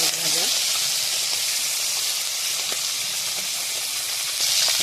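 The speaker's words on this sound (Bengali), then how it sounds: "তেল গরম হয়ে গেছে, দিয়ে দেবো চিংড়ি মাছ ভাজা," Prawns frying in hot oil in a kadai over a clay stove give off a steady, bright, continuous sizzle and hiss that stays fairly loud throughout, with no talking.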